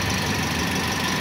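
A Toyota Vios with overheating trouble runs with its radiator fan on, giving a steady, dense whoosh and hum over the engine, heard close and unchanging for about a second.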